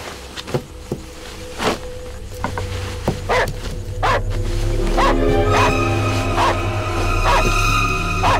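A dog barks in short, sharp bursts, then a steadier layered yelping and whining builds and carries on, loud and close, with no voices over it.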